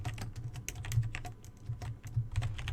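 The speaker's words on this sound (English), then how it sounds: "typing this out" Computer keyboard typing during software refactoring work, a steady run of quick close clicks with uneven rhythm and brief pauses, no voices over it.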